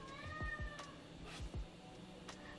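A hungry cat meows and cries for wet food indoors, letting out several short, faint, plaintive meows in an uneven rhythm.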